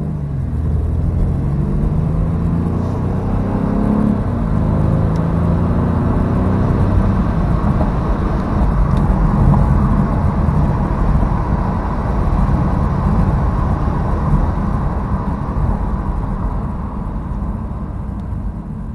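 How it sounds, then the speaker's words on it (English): A 2015 BMW 428i convertible drives along with a steady engine hum and road rumble, the revs rising through a gear early on before settling into a continuous cruise. It is loud and close, with no talk. "We'll take a quick little drive."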